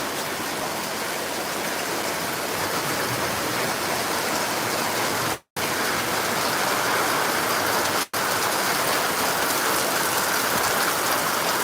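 Steady, heavy rain pours down as a continuous hiss. The sound cuts out for a moment twice.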